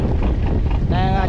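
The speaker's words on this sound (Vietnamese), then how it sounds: "thuyền em thì đang đi biển này" Strong wind buffets the microphone on a boat heading out to sea, a steady rushing roar of wind and water, with a faint tonal engine-like hum emerging near the end.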